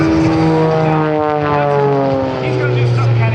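An aerobatic propeller airplane at the Blue Angels homecoming airshow gives off a loud, steady engine drone. Its pitch slides slowly as it flies overhead, and a commentator speaks over it throughout.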